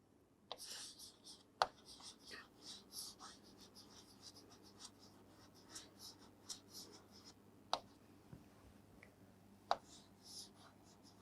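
Faint pen or marker strokes from a teacher writing notes during a biology lesson on plant tissue, scattered scratchy taps and strokes at irregular intervals against a quiet room hum.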